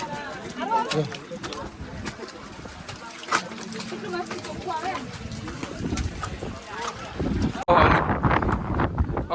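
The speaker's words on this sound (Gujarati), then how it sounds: "મિત્રો અહીંયા એવો ઠંડો પવન આવે છે ને" Cold wind blows across the Girnar hills in rain, roaring and buffeting the microphone in steady gusts that swell louder near the end, while people talk over it.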